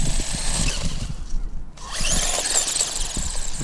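An HBX 16889 RC car races at speed with a high-pitched whining electric motor that dips briefly, then surges again amid bumpy thuds over rough ground.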